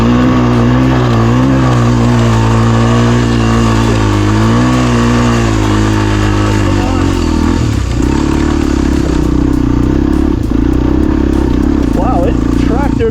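A 250cc air-cooled beginner dirt bike labours up a long, steep hill, its engine droning loud and steady with shifting pitch, then easing as it crests near the end.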